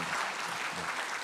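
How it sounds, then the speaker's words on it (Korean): A church congregation at a Sunday worship service claps in welcome, a brief burst of steady, dense applause from many people filling the sanctuary. "박수로 환영해 주시면 고맙겠습니다."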